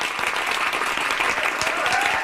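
An audience bursts into steady, dense applause that fills the whole stretch, many hands clapping at once with no voices rising above it.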